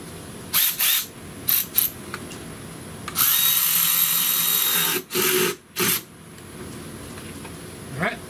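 A power tool tightens hose clamps on a 2007 Chrysler Pacifica engine, whirring in several short bursts and one long sustained run, loud and close with pauses between.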